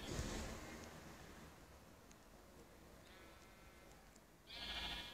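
Sheep bleating in the Minecraft video game, two short game bleats at the start and end of the clip, fairly loud against a steady background hiss.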